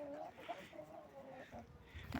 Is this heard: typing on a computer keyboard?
no